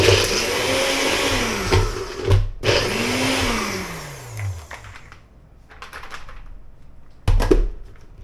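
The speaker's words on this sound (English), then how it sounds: "We have a cup or 8 ounces of spinach, which is frozen, so we're going to have to grind this up a little bit" A blender grinds frozen spinach for an avocado smoothie, loud and close, its motor pitch falling and surging as the load catches, then cutting off, followed by a brief second pulse.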